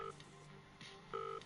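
Two crisp telephone keypad tones sound in an FMV video game as a phone number is dialed, with a short pause between them against a quiet backdrop.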